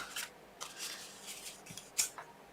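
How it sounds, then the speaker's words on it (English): Scissors snip through a paper hinge piece with flower cutouts on a handmade folio craft, a few light crisp cuts and rustles, close and fairly quiet with no talking. "I just prefer to cut that off"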